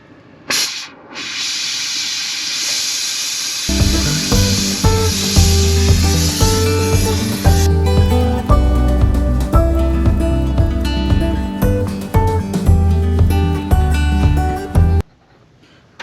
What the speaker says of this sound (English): I got to change the end and put the rosebud tip on the torch. We're going to heat that up, bend it back